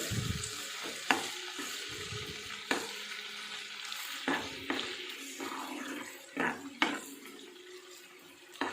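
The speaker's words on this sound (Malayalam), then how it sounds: "ഇഞ്ചിയും വെളുത്തുള്ളിയൊക്കെ നന്നായിട്ട് ഫ്രൈ ആയി കിട്ടണം" Ginger and garlic frying in oil for a sardine pickle, a soft steady sizzle broken by occasional clinks and scrapes of stirring, fairly quiet with no speech.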